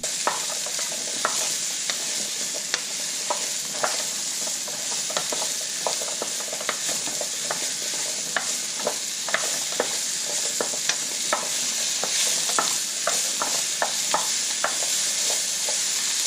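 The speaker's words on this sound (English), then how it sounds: "cook the zucchini first before you put the eggs in" Zucchini stir-fries in a pan before eggs are added, a constant close sizzle broken by frequent clicking scrapes of a utensil against the pan.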